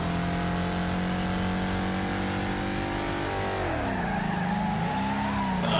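A race car in the driving game Wreckfest slams into the wall, its engine droning loud and steady as the pitch sags and tires squeal, with no voices over it.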